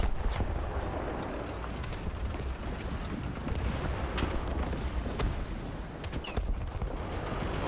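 Tank cannon fire from a B1 Bis in the War Thunder video game: several sharp distant shots and cracks scattered over a steady, rumbling engine and battlefield drone.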